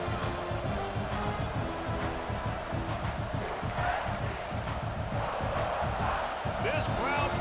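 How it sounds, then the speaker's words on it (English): Stadium crowd noise in the College Football 26 video game, a loud, steady roar of cheering and shouting that fills the whole stretch without letup, with a few whoops rising near the end. "This crowd bringing the energy and noise early."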